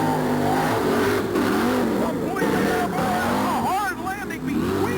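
The Bigfoot Ford monster truck launches at a 1989 Pittsburgh monster truck and mud bog race, its engine revving loudly under a steady crowd roar while an announcer talks over it.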